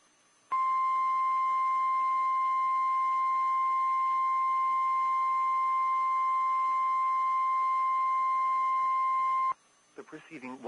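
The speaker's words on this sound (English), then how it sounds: "The preceding was a test of the National Weather Service warning alarm tone." A National Weather Service weather radio warning alarm tone sounds as a loud, steady, unbroken single tone for about nine seconds, then stops abruptly as speech begins.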